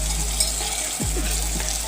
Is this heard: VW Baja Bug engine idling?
no